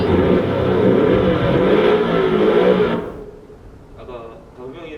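A Porsche 718 Boxster with a turbo four-cylinder engine revs loudly and holds a buzzy, droning note for about three seconds before cutting off. Quieter murmurs follow.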